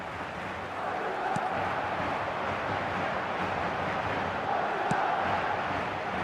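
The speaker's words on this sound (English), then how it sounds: "the crowd level has gone up a notch or 10" A stadium crowd roars after a goal in an eFootball match on PC, a dense, continuous wash of cheering that holds steady throughout.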